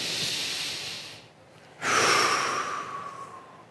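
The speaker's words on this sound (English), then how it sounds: "Maybe you can take a deep breath of appreciation." A slow, deep breath drawn in and let out during a quiet Rosh Hashanah service reflection, soft airy inhale, a brief pause, then a longer audible exhale close by.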